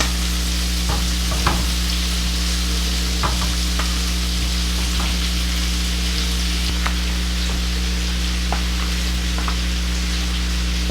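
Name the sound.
marinated shrimp frying in a pan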